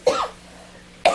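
Two sharp coughs in a meeting room, close and loud, separated by about a second of quiet room hum.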